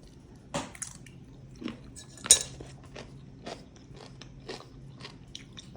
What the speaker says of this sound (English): Now for the real test, the crunch test.